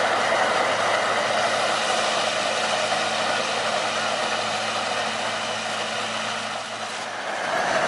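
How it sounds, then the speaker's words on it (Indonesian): A sugar cane railway locomotive at the PG Kedawung mill moves slowly while pushing empty wagons, a steady broad rumbling engine noise with continuous rattle, fairly close and loud, easing slightly near the end. "perlahan-lahan lokomotif bergerak lagi ya, mendorong lori-lori kosong"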